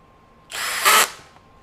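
A Masterforce 20V brushless compact 1/2-inch hammer drill driver spins up and drives a screw into a 2x4 in one short, loud whirring burst, rising in pitch briefly before stopping.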